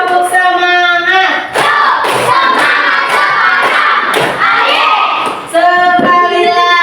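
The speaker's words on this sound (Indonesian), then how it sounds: "Tepuk semangat dulu." An audience at a teachers' coaching and academic supervision session performs a rhythmic spirit clap, loud sharp clapping bursts in a patterned beat mixed with crowd voices and chanting.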